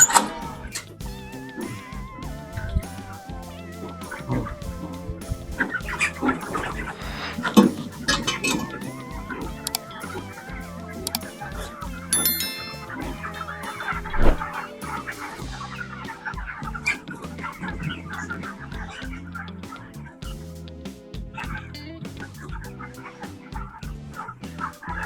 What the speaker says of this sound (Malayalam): ഇതാണ് ബ്രോയിലർ ഫാം.